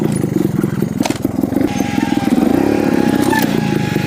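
A trials motorcycle engine revs and bogs through a wheelie into a nose wheelie, a loud, close throttle burst that swells and falls as the bike pitches front to back, running continuously with no pause.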